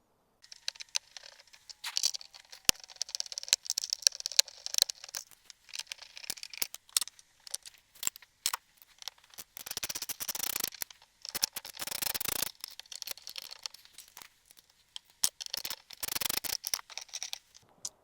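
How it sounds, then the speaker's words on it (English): Screws being taken out of a Land Rover Defender steering column shroud, with scattered close clicks, scrapes and plastic rattles, quiet and irregular, plus a few louder rustling bursts. "now, I think it's now 1, 2, 3, 4, 5 screws to remove from the shroud itself"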